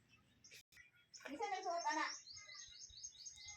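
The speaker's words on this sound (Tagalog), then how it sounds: "Narinig niyo yun? May mga ibon" A voice speaks briefly in a garden, then small birds chirp in quick, repeating high trills, fairly faint in the background.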